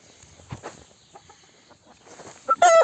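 Chickens, including a white hen, cluck in scattered bursts in a coop, with a louder squawk near the end over a steady background hum.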